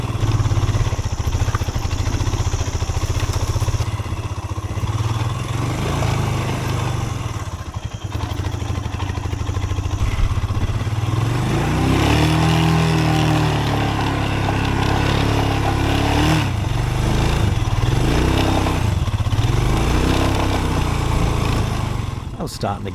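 A Royal Enfield Himalayan motorcycle rides through sandy tracks during a solo camping trip, its engine droning continuously with revving swells and rattly clatter throughout.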